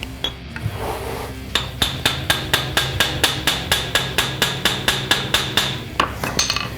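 A hammer strikes metal in a steady, even rhythm, about twenty sharp taps in quick succession, close and loud with no talking, while fitting a rear disc brake conversion kit on a 1963 Corvette.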